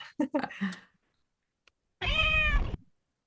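A cat meows once in a short clip played back, a clear, drawn-out harmonic meow after a few seconds of quiet following brief talk.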